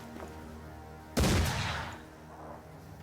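A single sharp gunshot from a firearm in the dark fantasy tactics game Mordheim: City of the Damned, a sudden loud crack that decays into a short rumbling tail over quiet background ambience.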